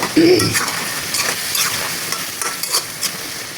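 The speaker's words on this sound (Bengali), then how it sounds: "এবার আমি পেঁপেগুলিকেও কষিয়ে নেব ভালো করে।" Papaya pieces are stir-fried in a pan for a chicken curry, a spatula scraping and clinking against the metal over a soft, steady sizzle.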